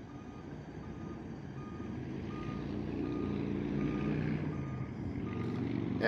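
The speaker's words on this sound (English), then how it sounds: "I was wondering why they were beeping." Steady series of high reversing beeps from a CSX high rail truck, evenly spaced, over a constant low engine rumble and background noise.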